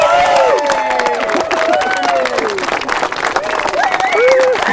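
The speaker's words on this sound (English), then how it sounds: "Please give them a cheer and a round of applause." Wedding guests clap and cheer for the bride and groom as they head back down the aisle after the ceremony, a loud, dense wash of applause with whoops and shouting voices throughout.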